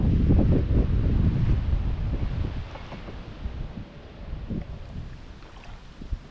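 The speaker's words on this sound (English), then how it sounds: "this wind is blowing me back upstream" Steady wind gusting across a widening river in Michigan during a canoe float trip, buffeting the microphone with a loud low rumble that eases slightly after a few seconds, with faint water movement beneath.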